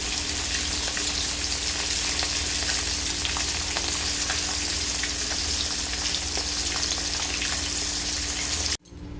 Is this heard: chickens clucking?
no